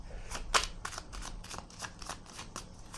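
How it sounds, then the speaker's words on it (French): A tarot card drawn from a deck with a run of crisp papery flicks and slides, one sharper snap near the start, close and moderately loud, without speech. "J'ai besoin, je le ressens, j'ai besoin de piger une carte ici."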